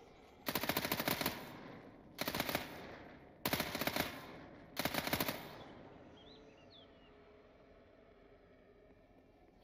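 Four loud bursts of rapid SMG fire from the video game Fear the Night, each about a second long and evenly spaced, followed by a quiet stretch of low ambient noise and a faint high chirp.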